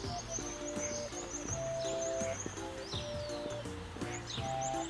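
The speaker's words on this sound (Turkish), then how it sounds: "Kuş sesleri, horoz sesleri hepsi bir arada." Birds chirp and whistle outdoors in a green residential setting, with repeated tonal calls and higher sweeping song notes over a steady background hum; no clear rooster crow stands out.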